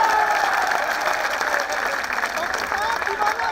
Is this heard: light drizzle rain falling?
no